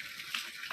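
Water poured over a cat during its bath gives a brief, soft splash and trickle, close by and fairly quiet.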